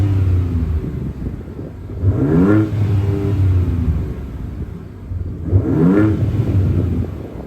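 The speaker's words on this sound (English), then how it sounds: "The vehicle roars to life." A 2025 Ford Ranger Raptor engine fires up and revs twice, each rise swelling into a loud, close roar before settling back to a steady rumbling idle.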